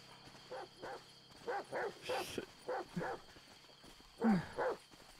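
Dogs in a GTA V roleplay game barking in a quick series of about seven sharp, loud barks, spaced irregularly with brief pauses between them.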